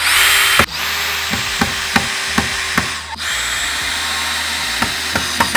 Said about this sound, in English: we can put our long square bit back on, and we can just send these screws straight through that we just drilled